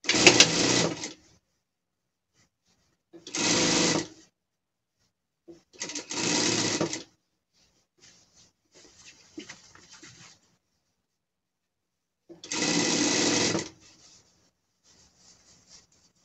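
Sewing machine stitching a gaucho-style pet costume, running in four distinct bursts of about a second each, separated by pauses with faint handling and rustling of fabric in between.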